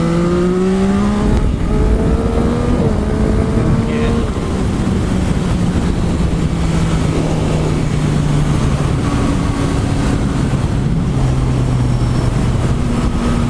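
A 2021 Yamaha MT09SP motorcycle accelerates hard in third gear during a power wheelie. The engine note rises steadily and stays loud and close, with heavy wind roar over the whole run.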